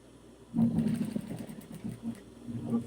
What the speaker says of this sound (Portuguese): a gente vai descer a agulha bem aqui e vai costurar